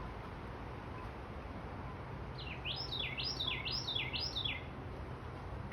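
A bird sings a short series of about five quick rising-and-falling chirps outdoors near a bee swarm being captured, heard mid-distance over a steady broadband hiss and faint background rumble.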